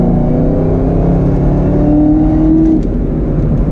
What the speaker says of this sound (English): This whine of the supercharger.